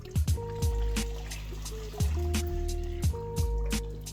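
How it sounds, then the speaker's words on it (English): Water trickling and splashing into a guppy tub on a multi-level setup, a steady dribble with intermittent louder bursts of pouring, close by with no talking. "this trickle agitates the top here"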